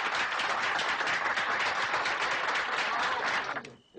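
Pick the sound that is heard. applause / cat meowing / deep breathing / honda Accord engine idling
applause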